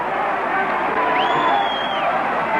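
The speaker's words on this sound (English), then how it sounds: "the Geelong crowd are screaming" A 1963 Geelong football crowd roars in a dense, continuous wall of screaming and cheering at a match against Carlton, loud and unbroken throughout.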